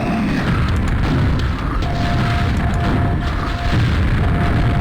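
Guided missile explosions in a video game: loud, continuous booming rumble with heavy low-end blasts overlapping one another, a brief dip midway, then the sustained explosive roar resumes.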